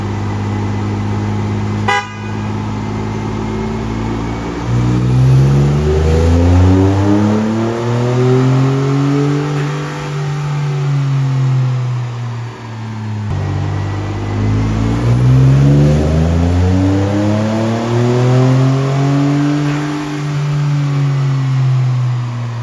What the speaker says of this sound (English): So we're gonna do a stock pull first and see what she makes without a tune.